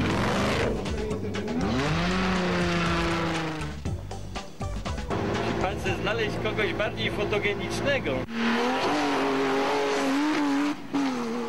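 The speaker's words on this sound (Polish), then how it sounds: "Wierzcie lub nie, ale ten samochód to Nissan Patrol z silnikiem 5-litrowym." A Nissan Patrol rally car with a 5-litre engine races on a sandy safari rally track, its engine revving and rising in pitch as it passes, while a commentator talks over the roar.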